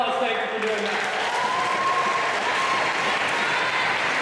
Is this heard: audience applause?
yes